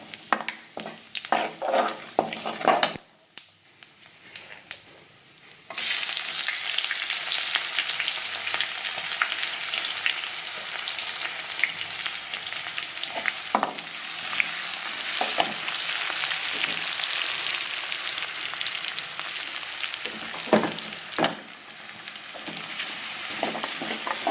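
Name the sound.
black cumin seeds and onions frying in hot oil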